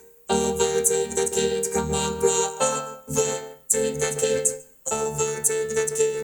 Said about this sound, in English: with the lead vocal on this chorusy section, I added a vocoder.